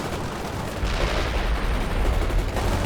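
Battlefield gunfire in the strategy game World in Conflict: a steady, loud roar of massed shooting and rumbling blasts that barely lets up for the whole stretch, with no talking.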